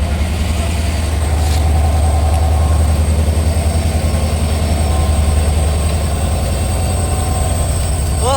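Loud, steady rumble of the Rajdhani Express passenger train running close by, with continuous rolling wheel noise and a deep engine drone throughout.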